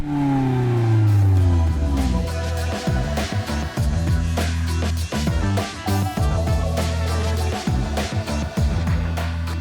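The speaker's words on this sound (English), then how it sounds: "it makes this sound louder than a normal Corolla." A 2021 Toyota Corolla Apex Edition engine revs hard with a loud, throaty exhaust roar, louder than a normal Corolla, rising and falling in pitch through repeated bursts of acceleration.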